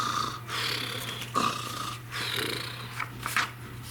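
A voice imitates a bear snoring, giving several slow, breathy rasping snores in a quiet room with a steady low hum underneath.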